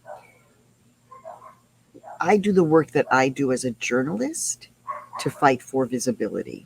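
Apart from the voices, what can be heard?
dogs barking outside an indoor-outdoor house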